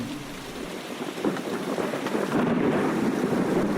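Steady rain pours down in a dense, hissing wash with a low rumble underneath, swelling slightly louder toward the end, with no voices.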